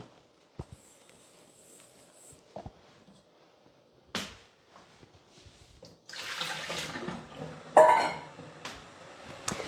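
Water runs from a kitchen tap, filling a container to melt cacao butter. It starts after a few sparse clinks and knocks, then becomes a steady rushing stream with a louder splash near the end.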